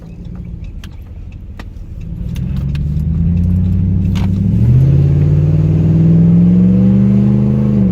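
A 2010 Ram 1500 pickup with the 5.7 V8, on a Rancho lift, pulls away and accelerates, its engine note climbing steadily and growing louder and deeper, heard close with a light jingle of keys early on.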